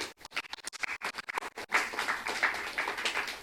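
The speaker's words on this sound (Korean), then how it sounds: "박수 한번 주세요." A church audience breaks into applause at a youth evangelism festival, first scattered individual claps, then a dense, brighter burst of clapping that carries on steadily.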